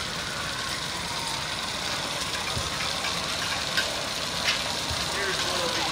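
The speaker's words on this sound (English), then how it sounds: "Kind of an odd tractor on full steel with a styled pin on it." An unusual styled tractor on full steel wheels runs steadily at an outdoor steam-era show, its engine a continuous rumble with scattered faint knocks amid broad open-air noise.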